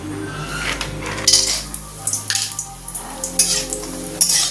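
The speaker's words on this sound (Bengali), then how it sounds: "বড়ি ভাজা হয়ে গেল।" Sun-dried lentil dumplings crackle in hot oil while a spatula scrapes and clinks against the pan in irregular bursts, close and fairly loud over a steady sizzle.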